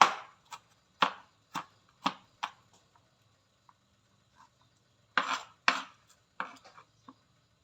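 A knife chops garlic into small pieces on a board for spaghetti seasoning, a close series of crisp, evenly spaced taps with a short pause before another quick run of cuts.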